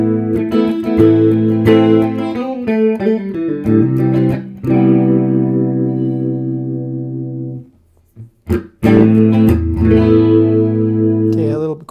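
Electric guitar chords through a Crate GFX15 amp's DSP chorus ring out with a shimmering, warbling chorus effect, strummed and sustained, with a short pause before another chord rings on.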